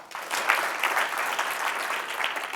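An audience in an entrepreneurship lecture claps together on request, producing a dense, steady burst of applause that fills the room for the whole stretch without pausing.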